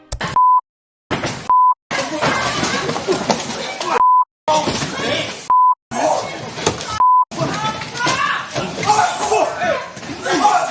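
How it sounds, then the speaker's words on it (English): A courtroom alarm sounds in about five short, loud electronic beeps spread evenly through the stretch, each breaking into busy talk and some chuckling voices. "As alarms went off in the courtroom, people started to call for help."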